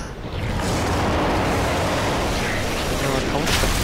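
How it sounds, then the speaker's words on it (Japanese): A loud, sustained explosion rumbles in the horror video game Psychobreak (The Evil Within), a dense roaring blast that swells quickly and holds for several seconds. "ああ、爆発。"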